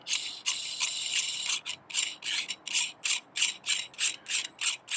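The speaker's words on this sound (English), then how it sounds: "we screw this off. Some really fine thread, so it takes a while to come off." The finely threaded part of an iPhone scope adapter is unscrewed by hand: a long grinding rasp of thread on thread, then a run of short, regular scraping strokes, close up and alone.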